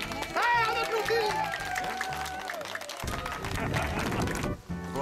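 An audience at an outdoor moving-contest event in Coaticook claps and cheers, a steady wash of applause mixed with music and a speaker's voice over the crowd.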